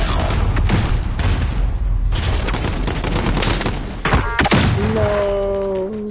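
Rapid gunfire from a weapon in a shooter video game, loud and continuous bursts with heavy thumps and a few impacts, followed by tonal electronic game sounds near the end.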